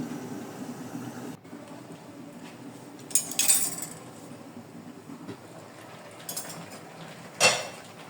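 Lid set onto a cooking pot of buffalo meat, brief metallic clatters and scrapes of metal on metal at close range over a low steady stove hiss, with no talking.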